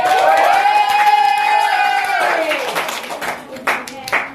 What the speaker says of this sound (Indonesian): Oke, benar banget Cerin. Tepuk tangan dulu.